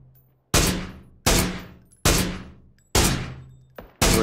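Gunfire in the video game PlayerUnknown's Battlegrounds: five loud, sharp shots spaced roughly a second apart, each with a long decaying echo, plus a fainter pop between the last two.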